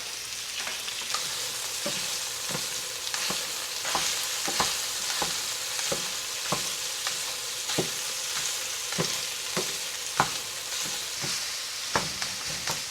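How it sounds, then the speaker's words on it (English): Meat browns in a hot pan for soup, sizzling steadily up close with grease crackling and sharp splatter pops recurring throughout. "You see that browning right there? That's going to create so much good flavor in our soup."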